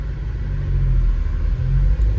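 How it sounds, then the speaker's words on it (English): Car traffic heard from inside a moving car in light traffic, a steady low engine and road rumble, loud and close, continuous with no voices. "Sitting in a little bit of traffic"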